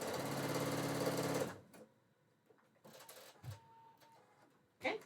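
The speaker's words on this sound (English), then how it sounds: "Let me just finish this seam and we will take it forward." A sewing machine stitches a fabric seam in a loud, steady whirring run for about a second and a half, then stops, followed by quiet handling noises and faint clicks.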